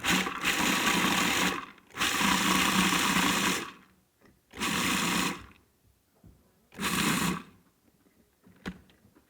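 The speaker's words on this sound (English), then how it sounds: "I used that pulse thing and just ground them enough so that they're a little bit powdery in between, but there's a lot of peanut pieces in there." Food processor pulsing to grind peanuts coarsely for a recipe, four loud whirring bursts of one to two seconds each separated by short pauses, close and alone with no talk.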